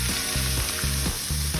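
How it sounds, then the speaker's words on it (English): Hot oil at about 375 degrees poured over a chili oil mixture in a bowl, giving a loud, steady, close-up sizzle and crackle with no talking. "pour the whole thing over the mixture in the bowl and listen for that sizzle"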